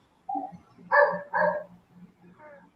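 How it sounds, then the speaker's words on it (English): Dogs bark a few times nearby in short, harsh bursts, with a quieter bark trailing after, mostly alone against a quiet background. "I hear the dogs and the cats picking up too"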